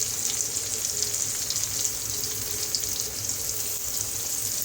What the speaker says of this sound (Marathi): त्यात पण सगळ्या कोलंब्यांना फ्राय करून घेऊ